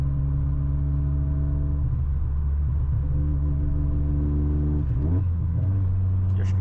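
Chevrolet Astra 16v accelerating along a highway, a steady low engine drone and road rumble from inside the car, with the pitch climbing and shifting as the car gains speed.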